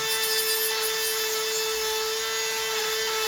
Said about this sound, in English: the router is working so well